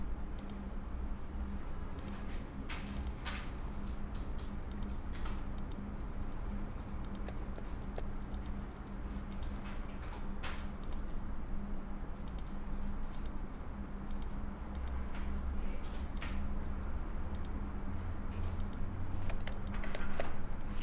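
Steady keyboard typing at a computer during AutoCAD drafting, a continuous patter of close keystrokes over a low steady hum, with no speech.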